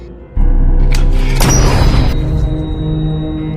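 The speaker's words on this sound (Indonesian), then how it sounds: "Pak Tua menembak Manny hingga tewas seketika" A sharp gunshot-like boom bursts out in a tense scene from the 2016 horror film Don't Breathe, an old blind man shooting an intruder, followed by a sustained ringing tone and a dense, lingering low rumble.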